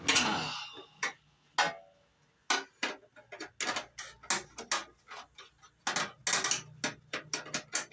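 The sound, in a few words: wrench tightening fuel system parts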